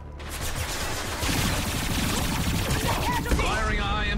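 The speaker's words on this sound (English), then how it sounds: "Firing a high-impact shot." Gunfire during a firefight in the sci-fi shooter Mass Effect 2, a dense, loud barrage of rapid shots with a sharper high-impact crack near the end, under shouted voices.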